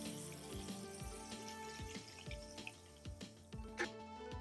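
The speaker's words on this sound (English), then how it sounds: "drizzle on a couple tablespoons of your potion, and you can top it off with water or seltzer" Homemade potion syrup and water pouring over a cup of ice, with faint trickling, dripping and small clinks of ice, quiet and close with no talking.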